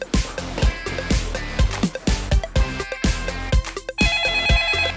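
A telephone rings in a cartoon scene as a girl calls her grandmother, its repeated electronic ring tone sounding over bouncy background music with steady percussive beats.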